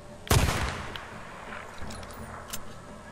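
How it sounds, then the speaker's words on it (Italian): One sharp, loud sniper rifle gunshot in Days Gone with a ringing tail, followed by faint clicks and a quieter thump; no voices. "È tempo di usare il nostro fucile da cecchino"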